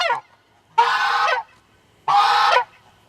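A goose on a farm with turkeys and greenhouses honks twice, two loud, drawn-out nasal calls close to the microphone with brief gaps of quiet between them.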